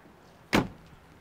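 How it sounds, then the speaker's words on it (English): A single solid thunk as the door of a 1966 Chevrolet Corvette shuts, loud and close, briefly decaying into a quiet background. "The doors open and close smoothly."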